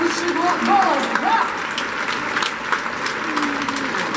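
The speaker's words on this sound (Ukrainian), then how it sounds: "ще раз ваші оплески, дорогі друзі" Audience applause at a live concert: a steady wash of clapping sustained for several seconds, with a voice briefly heard over it.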